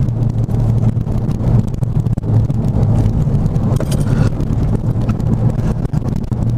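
A Renault Megane RS drives along a small road, its engine drone and heavy wind rush loud and steady from start to finish, with no voices.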